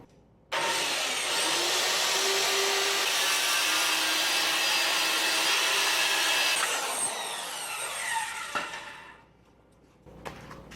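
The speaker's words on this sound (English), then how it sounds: "Now I need to rip 2 strips off of this." A power saw rips narrow strips off a wooden board for a patio ledge bar: a loud, close, steady whining cut lasting several seconds, then the blade spins down and fades.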